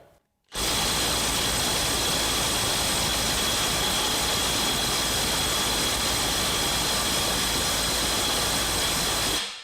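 A compact impact wrench fitted with an adapter hammers continuously on a bolt for about nine seconds, loud and close with a dense rattling roar that starts abruptly after a short silence.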